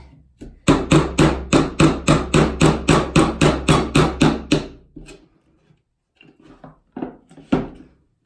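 A rapid run of about fourteen sharp, evenly spaced hammer blows on a nail into a wooden table, loud and close, then a few lighter taps and handling sounds.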